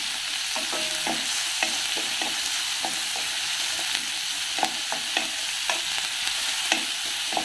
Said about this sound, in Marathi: हा कांदा मऊ होईपर्यंत परतून घ्यायचा